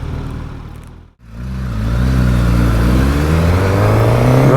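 A Suzuki GSX-S1000 motorcycle engine drops off briefly, then surges back into a loud, rising rev as the bike accelerates hard, the tone climbing steadily and close to the microphone.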